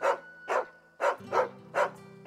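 A dog barks in Final Fantasy XVI, five or six loud, close barks spaced at a steady rhythm, with a low musical drone running underneath.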